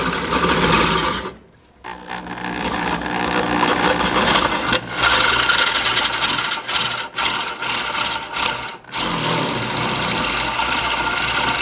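A cobalt drill bit bores out metal on a stove kit project, giving a loud, steady grinding whir that cuts out briefly near the start and stutters on and off toward the end.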